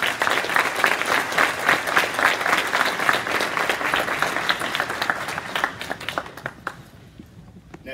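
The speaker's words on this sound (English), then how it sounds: "So give yourselves a round of applause." A church congregation applauds at a special needs worship service, a dense, sustained wash of clapping that stays loud for about six seconds before thinning out to scattered claps near the end.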